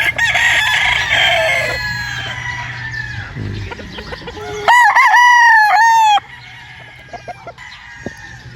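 A rooster crows loudly and close by on a spacious farm, with one strong crow rising and falling over a couple of seconds, while quieter clucking and other farm birds fill the background before and after.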